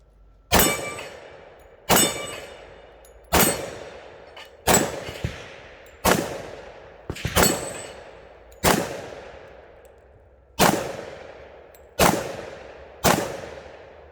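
Ten shots from a Springfield Armory XDM Elite 10mm pistol fitted with a red dot sight at an outdoor range, loud sharp cracks spaced about a second and a half apart, each ringing out briefly, no talking.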